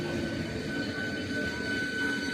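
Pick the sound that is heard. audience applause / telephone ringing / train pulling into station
train pulling into station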